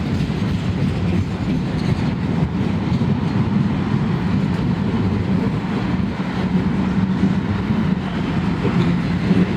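A freight train led by a heritage-painted locomotive rolls past close by, a loud, unbroken rumble of wheels with rhythmic clickety-clack from the railcars throughout.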